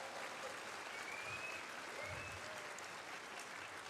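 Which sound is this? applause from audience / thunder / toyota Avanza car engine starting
applause from audience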